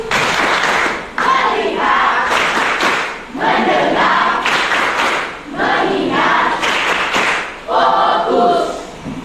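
A class plays a rhythmic group clapping game, chanting together in repeated loud bursts of voices and sharp claps separated by short pauses.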